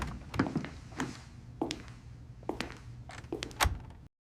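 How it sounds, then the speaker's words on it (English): A door pushed open in a quiet interior: a scattered series of soft thumps, taps and knocks over about four seconds, close and moderately loud, with no speech. "He didn't knock. He just pushed the door open"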